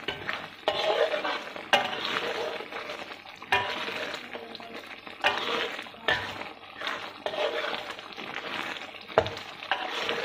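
Sambal paste sizzles in hot oil as a spoon or spatula stirs it, with repeated scraping strokes over a steady crackling fry, close and fairly loud, no talking.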